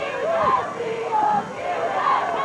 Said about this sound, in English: Wagner crowd getting a little restless now, trying to get their team back in the game as Tom Pugh and Pete Ottaviano come out.